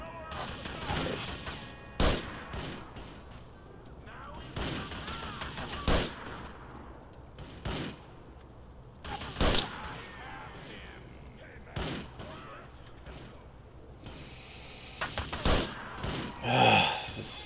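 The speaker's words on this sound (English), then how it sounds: "Shooting dudes indiscriminately should be fun, but it's not." Gunfire in Grand Theft Auto IV: sharp single shots and short bursts crack out at irregular intervals over about seventeen seconds, some loud and close, with a man's sighs and muttering between them.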